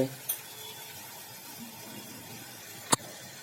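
Pointed gourd curry with garlic masala and mild chili cooks in a pan over low heat, a soft continuous sizzle with faint stirring, marked by a light clink near the start and a sharp utensil knock later.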